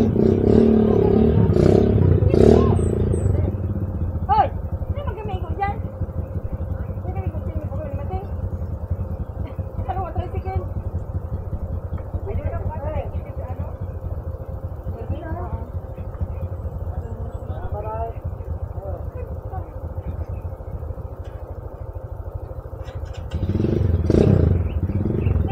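Motorcycle and tricycle exhausts roar and clatter through a street in the Philippines, a steady loud engine drone with revving bursts, while people talk over it at the start and end.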